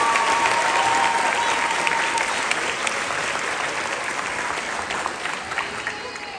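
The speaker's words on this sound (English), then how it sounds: "And one more round of applause for all of our award recipients." An audience at a middle school spring band concert applauds award recipients with steady, sustained clapping that slowly fades toward the end.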